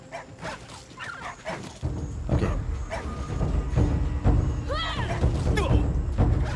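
Bush dogs in the survival game Soulmask bark and yip in short bursts over a steady rumble of combat and game noise, with a whining cry midway, fairly close.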